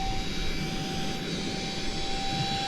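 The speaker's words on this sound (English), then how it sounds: "You'll hear the little motor." A small pump motor deflating a Flywater micro-skiff kayak gives a steady, close, constant whir with a fixed tonal hum, unbroken throughout.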